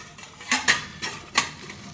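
Metal plates clinking and clattering on an idli steamer pot in a series of sharp, close knocks, several light taps plus two louder clanks, with no talking.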